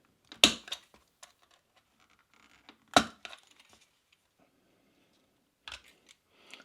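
Utility knife cuts through the plastic housing of a Maxx Air fan near a drilled hole, giving two sharp, close snapping cracks a few seconds apart, each trailed by small scraping ticks, with quiet gaps between and a faint click at the end.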